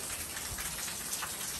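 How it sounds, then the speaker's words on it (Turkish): Steady heavy rain hissing down on a surface, a dense even wash of drops with no pauses and no voices. "yağmur şiddetli yağıyor"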